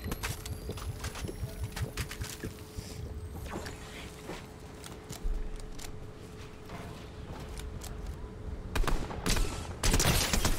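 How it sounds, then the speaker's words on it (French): Drum shotgun fired repeatedly in Fortnite during a competitive match, sharp bursts of blasts scattered through the clip with a louder cluster near the end, heard against steady game background noise. "ce pompe à tambour"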